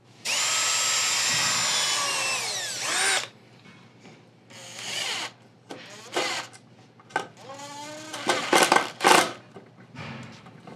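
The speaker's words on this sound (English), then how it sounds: "We're actually going to drill a hole through the palm of the hand and then screw it in." A power drill whines steadily at high speed for a few seconds drilling through a skeleton's hand, then winds down, followed by several shorter revving bursts and clattering handling noises nearby.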